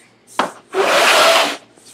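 Wood on a handmade piccolo guitar is sanded by hand: a quick tap, then one long, close, loud abrasive rasping stroke lasting under a second.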